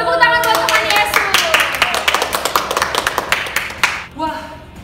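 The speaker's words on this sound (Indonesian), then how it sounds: "Tepuk tangan buat teman Yesus." Hands clap in quick, lively succession during a children's online church service, close and loud, with voices and bright tones around them before the clapping stops and a voice returns.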